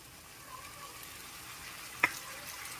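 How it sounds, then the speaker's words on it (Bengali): Spices and tomato puree sauté in a pan for a raw jackfruit kofta curry, giving a faint, steady sizzle with one sharp click partway through. "গুঁড়ো মশলাটাও 1 মিনিট কষিয়ে নিচ্ছি। 1 মিনিট কষিয়ে নেওয়ার পর দিয়ে দিচ্ছি টমেটো পিউরি"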